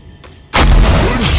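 A grenade explosion in the video game Counter-Strike Online 2, one sudden loud close blast after a brief quiet lead-in, followed by a sustained roaring rumble that fills the rest.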